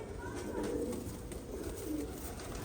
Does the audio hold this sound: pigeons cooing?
yes